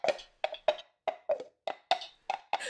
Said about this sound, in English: That is just two coconuts being sort of plopped together like this.